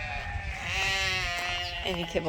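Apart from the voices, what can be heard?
sheep bleating on a fiber farm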